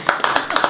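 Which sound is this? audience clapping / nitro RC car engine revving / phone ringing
audience clapping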